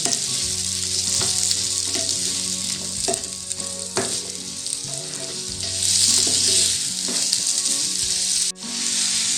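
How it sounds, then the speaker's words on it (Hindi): Onions fry in a pan for an egg and onion dish, giving a strong steady sizzle punctuated by clinks and scrapes of stirring, close by with no speech, ending in a brief dip. "प्याज ऐड करते हैं। इसको 1 मिनट के लिए हिला लेते हैं, थोड़ा सा फ्राई कर लेते हैं।"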